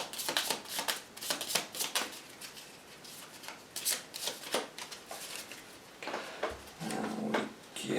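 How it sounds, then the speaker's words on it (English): Attack deck of cards in the Nemesis board game gets shuffled in repeated riffling bursts, close and crisp, with brief pauses between and a low bump near the end. "he's done an attack deck, so we'll give him a shuffle"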